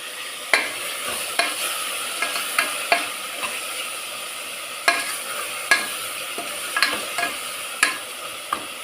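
Tomatoes with a little salt sauté in a pan, a soft steady sizzle broken by repeated sharp scrapes and knocks of a spoon stirring, close up with no talking.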